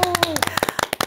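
Audience applause in a Korean Buddhist talk-show setting, honoring the Busan district missionary corps leaders and members: a run of quick, fairly loud claps with rhythmic bursts, a sustained tone lingering beneath.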